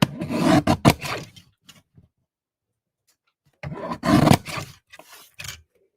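Card paper being trimmed makes two bursts of close, raspy cutting strokes, several quick rough scrapes each, separated by a stretch of silence.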